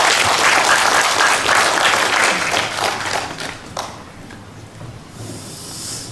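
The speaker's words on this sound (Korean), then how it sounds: "박수 부탁드리겠습니다" An outdoor civic rally crowd applauds as the Chuncheon city council chairman is introduced, loud dense clapping for several seconds that thins out toward the end.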